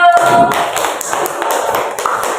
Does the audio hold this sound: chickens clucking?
no